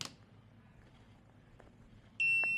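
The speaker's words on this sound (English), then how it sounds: "You get another beep" A faint room hush, then near the end a sharp electronic beep sounds clearly, a single steady tone from the control panel of an i2C T20 welding table.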